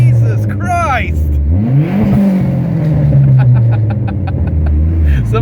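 A Dodge SRT-4 with a new exhaust revs loudly and close by, its engine note rising and falling through a couple of pulls, with voices talking over it.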